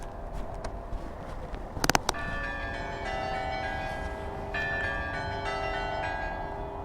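Town hall church bells in Cambrai, northern France, ring out in a burst of clangs, then settle into a sustained, layered ringing with steady background noise.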